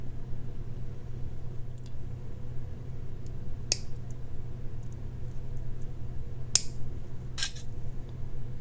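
Small wire cutters snip through jewelry wire for a beaded spider necklace, giving three sharp, brief clicks spaced apart over a steady low hum in an otherwise quiet room.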